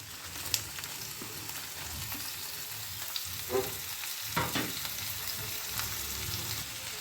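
Onions, tomato and dried red chillies fry in hot oil for a paneer curry, a steady, close sizzle with a few scraping stirs and spoon taps scattered through it.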